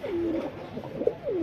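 Domestic pigeons at a pigeon sale featuring breeds such as Bombay, Sirazi and Lahori coo in low, warbling phrases, two or three rolling coos close by and fairly loud against a steady background hum, with no talking.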